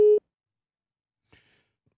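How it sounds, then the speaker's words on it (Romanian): Single short telephone busy-signal tone right after a dropped phone connection during a live televised debate for the capital's mayoralty, followed by silence and a faint click. "Probabil că s-a întrerupt legătura telefonică."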